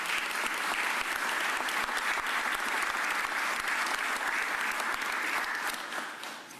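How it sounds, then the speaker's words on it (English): Sustained applause from a sizable crowd at a mayor's press conference, steady clapping for several seconds that begins to taper off near the end, with no talking. "That deserves a round of applause."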